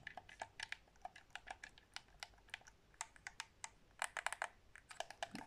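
Trigger stops on a PS4 controller clack repeatedly like a mechanical keyboard, close and sharp, in irregular flurries that thicken near the end, with no talking.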